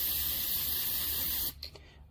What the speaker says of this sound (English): So I'm going to spray the black here